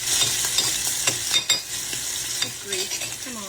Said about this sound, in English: I'm going to put about 3 tablespoons of butter in my pan